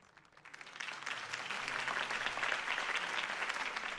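A crowd bursts into applause after a campaign speech in the Telltale Batman video game, a dense clatter of clapping that swells quickly and holds steady for several seconds.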